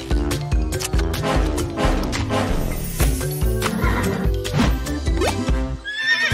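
A horse neighs with a shrill whinny near the end, preceded by clip-clopping hooves over a steady upbeat children's song.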